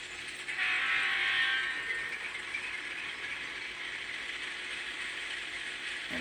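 Diesel locomotive sound file for a GE FDL engine playing from a Kato N scale model train: a steady mechanical hum and rattle that swells at the start, then holds an even level throughout, with no talking.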